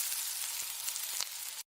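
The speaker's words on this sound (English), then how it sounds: "Eggs frying on the skillet." Eggs frying in a skillet give off a steady, loud broadband sizzle with faint crackles, close and continuous for under two seconds before cutting off abruptly, with no voices.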